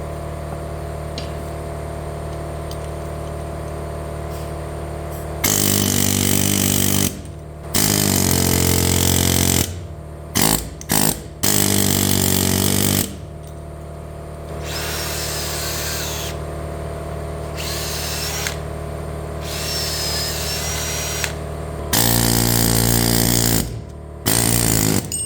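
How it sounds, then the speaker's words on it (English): Air chisel hammering at a leaf spring hanger on a 1969 Ford F100 rear axle, loud rattling bursts of a few seconds each, stopping and restarting repeatedly, with a steady hum between them. "I've never used an air chisel."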